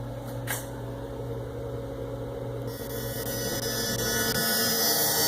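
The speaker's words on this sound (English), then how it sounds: "We're just doing a dry run on a simple hole program. You can see the spindles turning that tool." ShopBot PRS 120-60 CNC router spindle from a 2009/10 model with 6-inch Z axis, turning a tool during a dry run: a steady machine hum and whine that holds throughout, with a shift in pitch partway and rising slightly toward the end.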